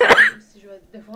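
A single sharp cough bursts out close to the mic, followed by quiet, low talking.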